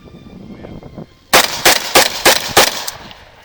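A heavy Browning-designed World War One rifle that looks like a machine gun fires a rapid burst of about six loud, close shots after a quiet start.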